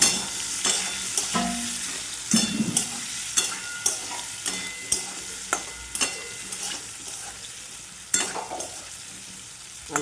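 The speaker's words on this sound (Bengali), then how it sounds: "আলুটা জোর করে ভাজছিলাম" Potatoes fry hard in a pan with a constant hissing sizzle, broken by regular sharp scrapes and knocks of stirring, close up and without talk.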